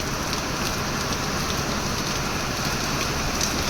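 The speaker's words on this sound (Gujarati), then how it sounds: "જો આમ રોડ ઉપર લાઇટ પડે તો એ દેખાય કેવો વરસાદ આવે છે." Heavy night rain falls on a road in Gujarat, giving a continuous, full hiss of drops that swells slightly in intensity but never breaks, close and loud, with no talking.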